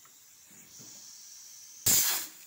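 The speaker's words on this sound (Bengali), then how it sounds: "এখন সিটি ফেলাবো। মাসকলাইটা প্রেসার কুকারে বসিয়ে দিয়েছি" A pressure cooker cooking maskalai dal lets out a sudden loud burst of hissing steam from its whistle after a quiet stretch, and the blast holds for about half a second before fading.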